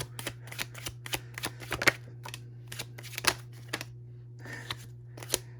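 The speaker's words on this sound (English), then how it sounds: "One more quick shuffle there." Quick bursts of riffling and snapping from tarot cards being shuffled, irregular and close, over a low steady hum.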